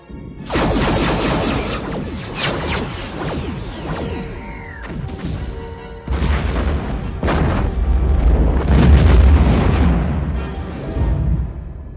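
Weapons firing in the EVE Online video game: loud booming blasts and crashing impacts with whooshing sweeps, a burst at the start and a denser, heavier barrage from the middle onward, rumbling low throughout.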